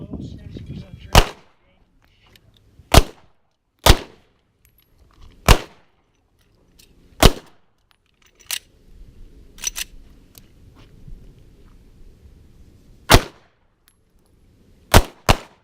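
Pistol shots at an outdoor target shooting league match, sharp single cracks spaced irregularly about a second or more apart, around nine in all, each loud and close with quiet pauses between.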